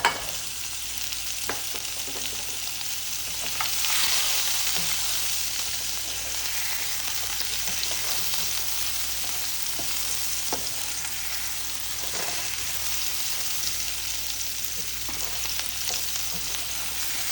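Garlic sizzling in a hot pan after searing for a meatless stew, a continuous loud broadband hiss with occasional faint utensil ticks running steadily for many seconds, no talk.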